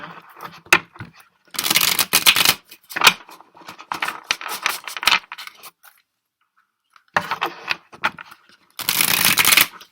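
Crisp riffling bursts of a deck being shuffled, repeated in several quick rounds with short pauses between, close and fairly loud, no voices.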